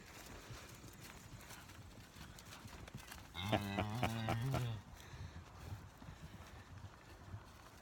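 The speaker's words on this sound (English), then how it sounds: "That tan cow is in heat" Cattle on a farm bellow loudly in one long, close moo lasting over a second, with a tan cow in heat among them; a quiet outdoor background with faint clip-clop sounds surrounds the call.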